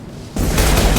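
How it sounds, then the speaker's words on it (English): Concussive shot ability in Mass Effect 2 Legendary Edition going off as a sudden loud, close boom with a rumbling tail that fills the remaining moment. "Firing concussive shot!"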